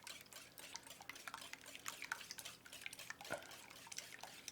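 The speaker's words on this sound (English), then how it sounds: "I got 8 eggs in here that I'm going to whisk up" Eight eggs are beaten in a bowl with steady quick clicking and tapping against the sides, faint and close, plus a few brighter clinks.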